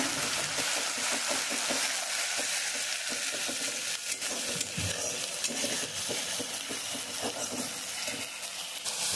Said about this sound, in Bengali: এটা এখন দিয়ে দিচ্ছি, এখন ভালোভাবে কিন্তু মশলাগুলো কষিয়ে নেব যতক্ষণ না কাঁচা গন্ধটা দূর হচ্ছে